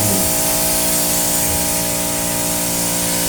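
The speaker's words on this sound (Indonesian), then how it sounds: "Ini semprot ini" A sprayer hisses steadily and loudly as it applies N-Grow Farm solution on a farm, a continuous close-up spray with a faint mechanical hum beneath it.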